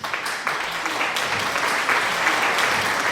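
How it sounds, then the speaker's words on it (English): A stakeholder event audience gives a steady, full round of applause, dense clapping sustained evenly from start to finish without talk. "Let's give Aaron one more round of applause"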